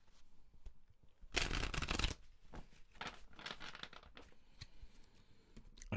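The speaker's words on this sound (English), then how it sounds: "One more shuffle." A deck of tarot cards is riffle-shuffled once, a quick crisp burst of flicking, followed by quieter soft taps and handling of the cards.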